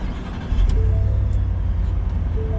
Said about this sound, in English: let's go ahead and hop in this truck and fire it up